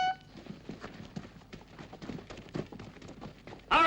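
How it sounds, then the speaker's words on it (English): Horses clip-clop along in a Western chase scene, with hooves thudding in a loose, uneven rhythm at moderate distance, ending in a sudden loud burst of noise. "Get on your horses!"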